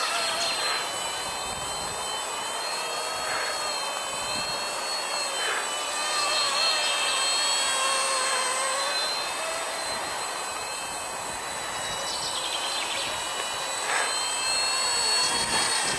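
Small Esky F150X RC plane flying outdoors in wind, a steady whining motor tone with shifting pitch that rises and falls as it maneuvers, continuous at moderate distance with no talk.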